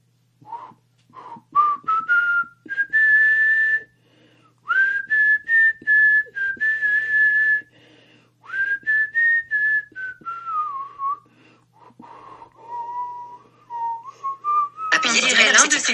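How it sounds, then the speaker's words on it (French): A person whistles a melody into Google Assistant for song recognition: clear, close whistled phrases with pauses between them, pitch sliding and holding, ending with a short burst of broadband noise. "simplement en sifflotant"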